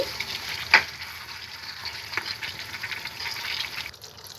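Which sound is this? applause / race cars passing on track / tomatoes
tomatoes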